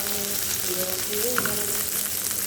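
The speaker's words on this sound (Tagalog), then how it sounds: "Garlic. Then, ang onion. Igisa lang natin." Garlic and onion sautéing in a pan for chicken adobo, a steady close sizzle and crackle of frying with a faint stir or two.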